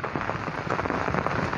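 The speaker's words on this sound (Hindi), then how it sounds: "बारिश वारिश हो रहा है" Steady rain falls, a dense close patter of drops hitting surfaces with no pauses.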